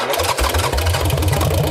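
Harley-Davidson Sportster 1200 boardtracker motorcycle engine firing up, a loud, close, lumpy rumble with uneven low pulses.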